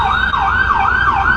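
An ambulance siren wails in a loud, close, regular rising-and-falling cycle, heard alone outdoors.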